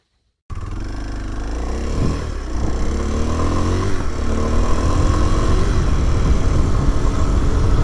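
Kawasaki KLX230SE motorcycle ridden away: a steady, loud single-cylinder engine drone begins abruptly and holds throughout, with rising revs through gear changes and wind noise, no talking.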